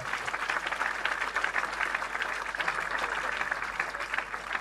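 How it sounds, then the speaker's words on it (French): A church congregation claps during a sermon: a dense, steady wash of applause from many hands that carries evenly from start to finish, with no clear speech over it. "On acclame Dieu pour la croix, frères et sœurs."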